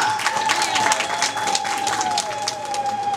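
Seminar audience applauding a business talk, a steady wash of clapping hands with a faint sustained tone running through it, moderately loud throughout.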